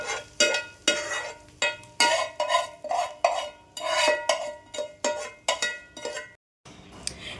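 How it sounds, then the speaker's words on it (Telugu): A spoon scrapes and taps repeatedly against a metal pan as a finished tempering is moved into a bowl, with about a dozen quick, close metallic strokes in an irregular rhythm and no talking. "నీట్గా బౌల్లోకి తీసేసుకోండి తాలింపుని."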